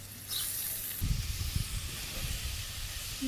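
Chopped vegetables hit hot oil with cumin and browned onion in a wok, bursting into a loud, steady sizzling hiss that starts abruptly and carries on close and continuous.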